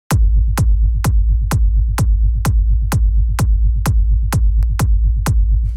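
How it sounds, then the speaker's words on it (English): A punchy techno kick drum hits alone in a steady four-on-the-floor pulse, about two beats per second, loud and booming with a sharp click on each hit. "it's just like a super punchy techno kick that I made"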